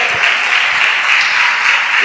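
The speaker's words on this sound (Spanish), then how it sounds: "Dele un aplauso por la bendición que usted tiene en la palabra" A church congregation claps together in a loud, dense burst during a Sunday morning service, continuous and close throughout the short stretch with no speech.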